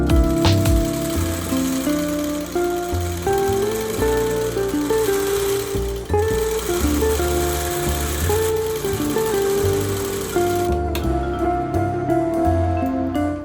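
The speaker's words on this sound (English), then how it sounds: "Now I'm going to take this over to the sewing machine and sew this down." A sewing machine runs steadily for the whole stretch, a loud continuous mechanical whir with rhythmic stitching chatter, pausing briefly near the end.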